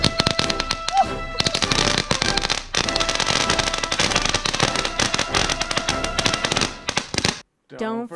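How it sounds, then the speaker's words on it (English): Dense crackling bursts of fireworks from a Brio Thomas Wooden Railway toy fireworks train pop continuously for several seconds over background music, then cut off abruptly, followed by a brief tonal sound. "He's gonna take off with those fireworks."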